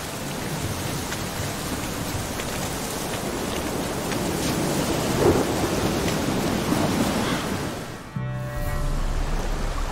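A thunderstorm in The Witcher 3: Wild Hunt, with steady heavy rain and a rolling rumble of thunder throughout, cut off near the end by a brief drop and a shift in the ambience.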